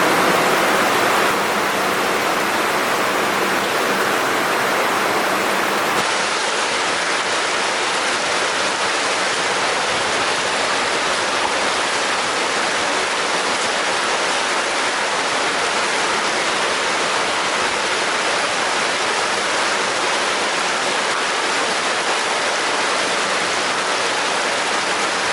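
A noisy waterfall inside an underground culvert pours and crashes continuously in a steady, loud roar, echoing through the enclosed tunnel, with no voices.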